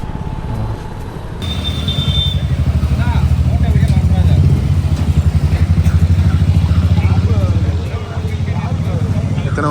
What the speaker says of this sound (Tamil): ஓகே கைஸ், KTM வந்தாச்சு